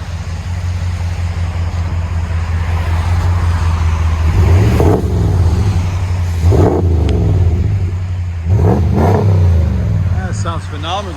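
A 2019 RAM 1500 with the 5.7L HEMI V8 and Borla Pro XS exhaust idles with a deep steady rumble, then revs up sharply three times, loud and close.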